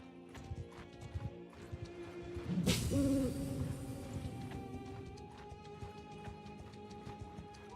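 Horses clip-clop and whinny in a fantasy battle video game, with a burst of hooves and a loud, close neigh rising in the middle over quieter game ambience and background tones.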